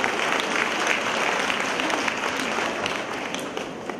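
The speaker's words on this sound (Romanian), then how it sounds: "Să-l aplaudăm!" Steady applause from an audience at a municipal concert for women in Hîncești, honoring the mayor; dense, even clapping that holds throughout at moderate loudness, with no talking over it.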